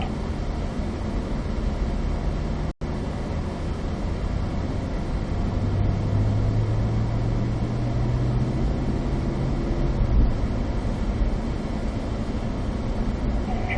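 A Cadillac CT5-V Blackwing drives a warm-up lap on a track, its engine a steady low drone heard from inside the car with road and wind noise, rising gently in pitch midway, with no talking.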